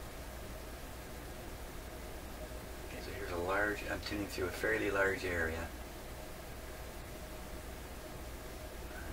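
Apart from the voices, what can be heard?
FM receiver static hiss between stations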